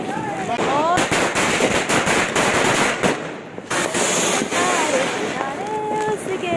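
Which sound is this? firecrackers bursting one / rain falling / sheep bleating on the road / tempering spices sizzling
firecrackers bursting one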